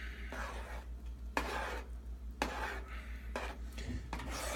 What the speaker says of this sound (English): Trying to stir it without making a mess.